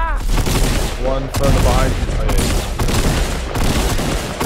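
Dense, continuous shooting from several players in Fortnite Battle Royale overlaps into steady rapid cracks and booms, loud and near, with a player talking over the barrage.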